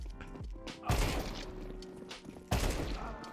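AK rifle gunfire in a video game aim-training routine against bots: two loud, sharp bursts of rapid shots, one shortly before the first second and another about one and a half seconds later, with a quieter background between them.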